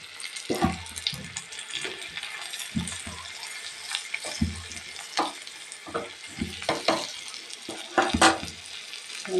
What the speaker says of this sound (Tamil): கொஞ்சம் சின்ன வெங்காயம் ஆட் பண்ணிக்கலாம். ஃப்ரை பண்ணி வச்சுக்கலாம்.